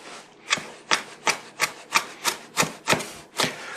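Onion chopped by hand with a knife on a board, about ten crisp, evenly spaced chops in a steady rhythm, close and clear with no talking.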